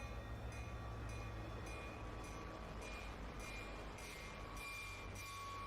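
A train rumbles steadily along in the Roblox video game, a dense continuous rolling drone with faint periodic clicks and a thin whine on top, heard alone at a low level.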